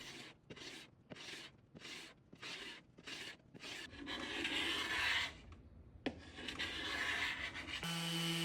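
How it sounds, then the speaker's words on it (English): A carbide scraper strokes finish off a wooden dresser in eight quick rasping pulls, each a short burst with brief gaps, then gives way to longer, continuous scraping, loud and close. "So I'm using my carbide scraper, and I'm going to scrape off all of the finish"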